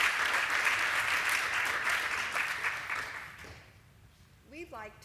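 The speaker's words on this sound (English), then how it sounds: "Another round of applause for Dr. Tillstead." Audience applause after a lecture on aquatic foods: dense crowd clapping that gradually fades out, followed by a voice speaking as the clapping ends.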